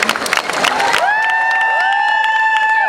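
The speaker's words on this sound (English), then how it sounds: "give yourself a round of applause" Crowd applause and cheering at a Comic Con fan panel, a burst of clapping that fades at about one second into sustained electronic feedback tones.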